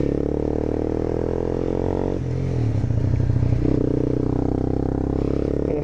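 Riding a Honda CBR 250 motorcycle, its engine droning loud and close with a steady low hum, a brief dip and rise in revs midway, and wind rumble throughout.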